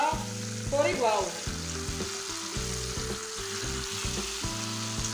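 Pork chops frying two at a time in a pan give a steady, close sizzle that persists throughout, with a tonal musical bed running underneath.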